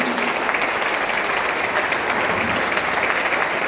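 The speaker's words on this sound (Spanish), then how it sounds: "Dale un aplauso fuerte a Él." A congregation at a Christmas dinner church gathering gives steady, loud applause filling the hall for several seconds, with a faint murmur of voices underneath.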